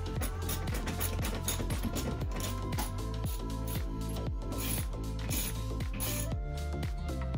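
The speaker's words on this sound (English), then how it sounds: "hand tighten the bolts at first, and then use the ratchet wrench to complete the job." A ratchet wrench clicks rapidly in repeated bursts while tightening the bolts of a Member's Mark full-motion TV wall mount, close and loud over a constant mechanical background hum, with no speech.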